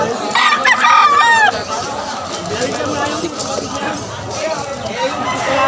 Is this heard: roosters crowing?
yes